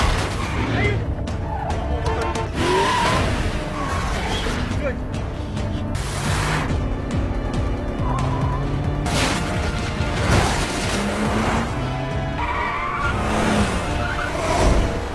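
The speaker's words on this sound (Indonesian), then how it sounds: "Tanpa lama-lama mereka pun berhasil menabrak mobilnya" A car is rammed by another vehicle during a chase scene in a Korean gangster thriller, dense loud film audio with impacts, crunching metal and skidding layered under dramatic sound, while a voice talks over it.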